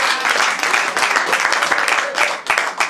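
Guests at a Congolese wedding ceremony led in church applaud and cheer, with steady dense clapping and raised voices filling the room for about three seconds.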